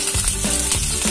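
Cumin seeds, a bay leaf and dried red chillies crackle in hot oil for a tadka, a loud dense sizzle with rapid popping and a few stirring scrapes.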